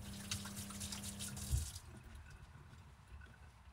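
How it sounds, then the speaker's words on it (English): Tap water runs from a faucet while hands are washed during outdoor cooking, a steady splashing stream for about a second and a half that then cuts off, leaving only quiet ambience. "Just wash my hands again."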